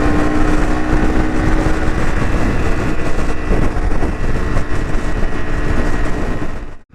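A Honda CRF300 motorcycle engine holds around 7,000 RPM at freeway speed, a steady droning buzz heavily mixed with roaring wind noise, loud and constant before cutting off abruptly at the end.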